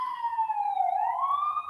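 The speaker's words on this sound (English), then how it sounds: "the sirens right now." An emergency vehicle siren wails outside, a steady rising and falling tone that carries on alone without pause, moderately loud and a little distant.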